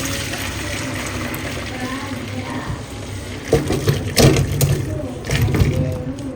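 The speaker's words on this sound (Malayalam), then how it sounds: "നമുക്ക് ഇതിന്റെ വെള്ളം ഇതിലേക്ക് ഊറ്റാം." Water is drained off boiled tapioca, heard as a low background wash followed by louder splashing and pouring bursts toward the end.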